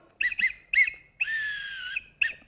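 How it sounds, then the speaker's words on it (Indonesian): A toy whistle is blown in short shrill toots during an online Sunday school service: two quick blasts, then another, then one long sustained blast and a final short toot, close and clear with no talking. "aku ini punya peluit"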